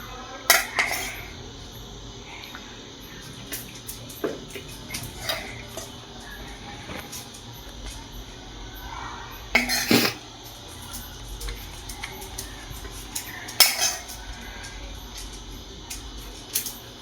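Ceramic dishes and metal cutlery clink sharply while bhetki fish kalia garnished with coriander is served, scattered separate knocks and scrapes over a quiet room.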